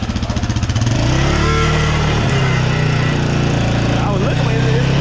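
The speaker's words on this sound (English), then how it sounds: "I hear like that little rattling shit." A motorcycle engine runs loud and close, its steady idle carrying a faint rattle from inside the muffler, with people talking over the engine noise.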